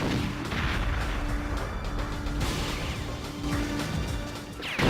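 Bursts of rapid gunfire in the video game Perfect Dark crackle and thud continuously, with sharp impacts layered over a dense, noisy backdrop.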